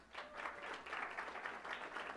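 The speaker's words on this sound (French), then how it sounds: "On l'applaudit encore." An audience applauds a scholarship recipient at a Sunday church service, a steady wash of clapping that holds evenly for about two seconds with no voices.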